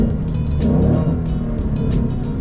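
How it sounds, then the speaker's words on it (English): A 2024 Ford Mustang GT engine revving, a loud close rumble holding steady for a few seconds with rhythmic pulses in the exhaust note. "Final rev."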